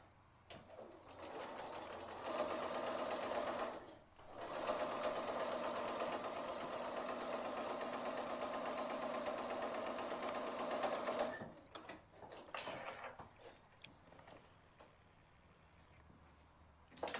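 A sewing machine stitches a four-patch quilt block in two runs, a short burst and then a longer steady whirring one. The sound is close and moderately quiet, and handling noises come in between the runs.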